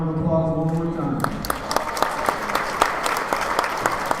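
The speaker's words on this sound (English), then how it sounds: "if we could all give them a round of applause one more time." At a high school basketball game, a crowd applauds the seniors, with sharp individual claps and a dense roar of clapping following a voice over the public address at the start.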